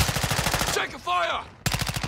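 Rapid automatic gunfire in a battle royale video game endgame, loud bursts of regularly spaced shots that break off briefly around a short game voice cue, then resume close and sharp.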